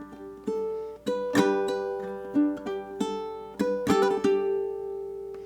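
Fingerpicked ukulele plays a dreamy melodic passage alone, with clear plucked notes ringing over one another at a gentle, unhurried pace, several distinct attacks spaced through the phrase.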